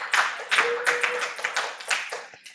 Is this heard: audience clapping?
yes